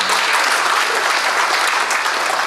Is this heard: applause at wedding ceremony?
yes